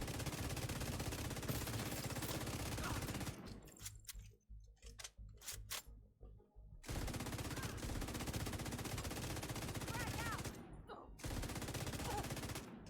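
Sustained LMG suppressive fire in The Division 2, long dense bursts of rapid automatic shots broken by short pauses, with quieter scattered shots in the gaps.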